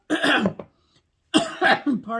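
Two bursts of harsh coughing, close by, separated by a short silence, each a rough cluster of throaty hacks.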